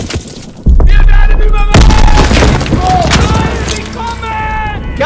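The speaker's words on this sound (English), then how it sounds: "Lob it a grenade!" A grenade explodes in the World War II shooter Call of Duty WW2 during a D-Day beach assault. A sudden loud, deep boom is followed by a long rumbling tail, with battle noise and shouting voices underneath.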